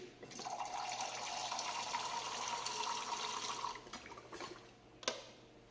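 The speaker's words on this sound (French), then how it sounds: "on va rajouter encore de l'eau distillée" Distilled water poured into a container in a lab: a steady splashing pour runs for several seconds, close and moderately loud, then trails off into a few drips and a final small splash.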